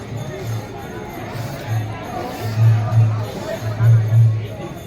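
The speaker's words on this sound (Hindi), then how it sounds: "बहुत बम्पर भीड़ है क्योंकि सावन का महीना चल रहा है, इसलिए भीड़ बहुत ज़्यादा है।" A dense crowd packs Mankameshwar temple during the Sawan month, producing a steady murmur of overlapping voices and chatter with a low droning hum beneath.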